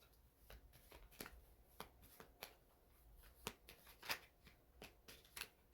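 Tarot cards are shuffled close by, with soft, irregular slaps and riffles spread across several seconds over a quiet background, some strokes sharper and louder than others.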